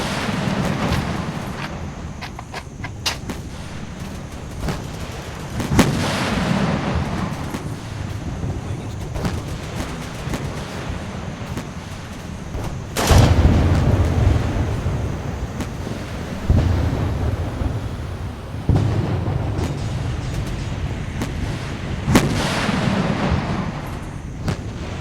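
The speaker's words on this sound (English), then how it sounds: "Requesting napalm airstrike." Napalm airstrike in a Vietnam War video game: a run of heavy booming explosions, several deep blasts spaced through the stretch with rumbling, roaring fire and wind-like noise between them, one especially loud hit midway.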